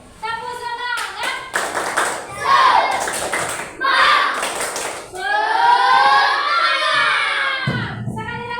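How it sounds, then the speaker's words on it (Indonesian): A classroom of students performs rhythmic tepuk semangat spirit clapping, sharp patterned bursts of claps alternating with children's chanted voices, loud and close, ending in a sustained group shout. "Oke, tepuk semangat."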